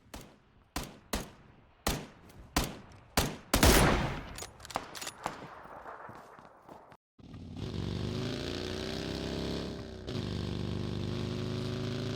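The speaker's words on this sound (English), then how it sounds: "Lesky got a awesome red dot headshot from pretty far away with the M24 on Miramar" Gunfire in PUBG on the Miramar desert map, with an M24 sniper rifle in play: a rapid series of sharp, loud shots with echoing tails, followed by the sustained drone of a vehicle engine.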